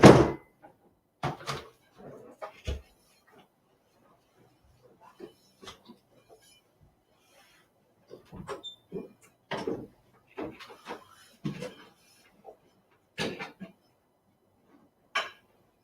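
A door opening and closing indoors: scattered sharp knocks and clunks, a loud burst at the start and several more mid-way, separated by quiet gaps, with faint voices now and then.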